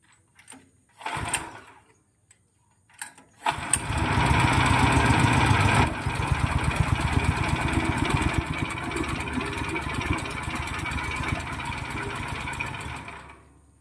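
A small gasoline engine driving a horizontal dough mixer gives a couple of brief pull-start attempts, then catches and runs with a loud, steady rapid chugging that eases slightly toward the end.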